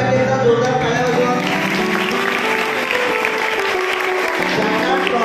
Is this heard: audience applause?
yes